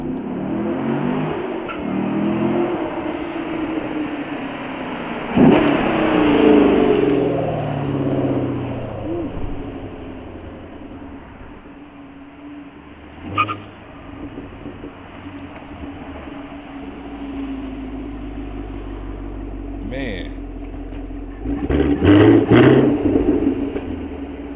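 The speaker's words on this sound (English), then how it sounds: "it has the active exhaust and whatnot, and when you get down on it, it sounds a little bit better" A Dodge Scat Pack with active exhaust revs, its engine surging into a deep roar and settling into a lower rumble, with a second loud burst near the end.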